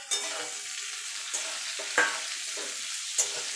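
Potatoes fry with bitter gourd in a pan, a steady close sizzle broken by several sharp scraping stirs at roughly one-second intervals.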